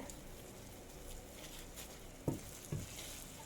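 Food fries in a pan, a faint, steady sizzle and patter broken by a few soft scraping thumps of stirring near the end.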